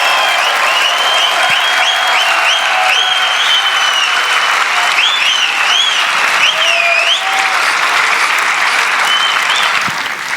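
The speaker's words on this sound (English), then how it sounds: "a warm round of applause for the greatest in the world" Loud, sustained applause from a large audience at a live event with Khabib Nurmagomedov. Cheers and whoops ride over the clapping from start to finish.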